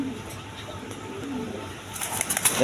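Pigeons coo softly in a small loft of mixed breeds with young birds, a low murmuring under steady background noise, with a few sharper chirps near the end.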